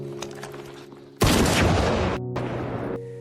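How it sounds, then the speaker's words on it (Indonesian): A film gunshot fired toward a hill bursts in as a sudden loud blast with a rumbling tail, followed by a brief cut and a second burst of rough noise over a low background hum. "ia membidik dan menembak ke arah bukit"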